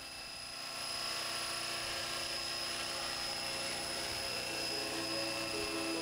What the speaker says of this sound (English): the first thing you need to learn when you're flying a helicopter is to learn how to hover